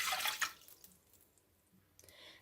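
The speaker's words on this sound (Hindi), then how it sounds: "इसके अंदर मैं पानी ऐड करती हूँ।" Water pours briefly into a cooking pot at the start, a short splashing rush that fades into quiet, followed by a few faint drips and a light splash near the end.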